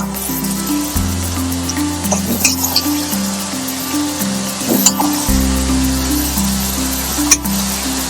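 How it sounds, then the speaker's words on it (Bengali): Jackfruit and prawns sizzle steadily in a pan as they are sautéed again for a Bengali malai echor chingri dish, with close, constant frying hiss, a low hum underneath, and occasional clinks of a spoon stirring. "এবার আমি এগুলোকে ভালো করে আবারও কষিয়ে নেব।"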